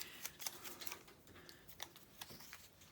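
Scissors cut paper for a faux postage stamp, a series of quiet crisp snips and rustles in an irregular rhythm, faint and close with no talking.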